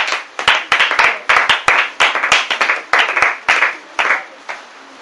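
A church congregation clapping for the Lord in a loud, fast, slightly uneven rhythm of many hands, sustained bursts close by with a brief lull toward the end and no cheering voices standing out.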